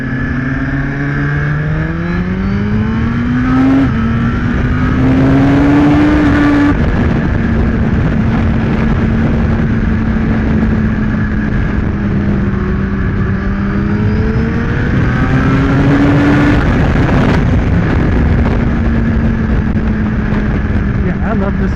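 Suzuki GSX-R1000R superbike ridden hard at speed, a loud continuous engine drone rising and falling in pitch as it revs and shifts gears, with heavy wind noise; a rider talks over it now and then.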